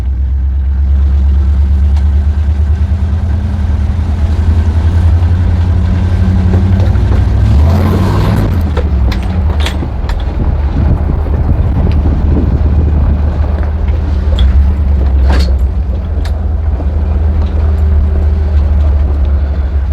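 An LS-swapped 1984 Ford Bronco II with a 4L60E transmission idles and rumbles at low speed while crawling, a steady deep engine drone with a brief louder surge midway, mixed with some wind buffeting on the microphone.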